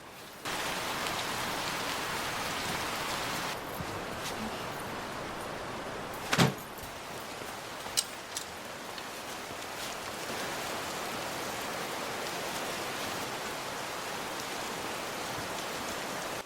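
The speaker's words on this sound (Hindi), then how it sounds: "पुणे की बारिश." Steady rain in Pune hisses down on surfaces, a soft continuous wash with a few brief knocks and clicks nearby.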